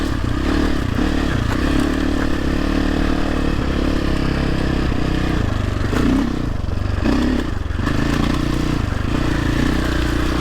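A Sherco 450 SEF Factory enduro motorcycle that keeps stalling runs with a loud, continuous engine drone, with slight surges in pitch and some rattling along the way.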